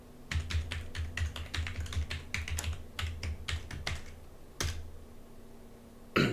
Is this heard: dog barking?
no